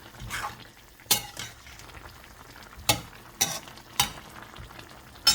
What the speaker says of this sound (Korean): 잘 끓고 있습니다.